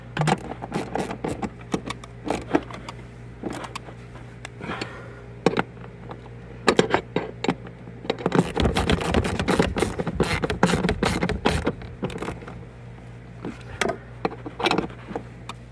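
Bolts being snugged down on a throttle pedal relocation bracket in a Toyota GR Corolla give short metallic ticks and ratchet-like scrapes, with a denser burst of clicking midway. A steady low hum runs underneath.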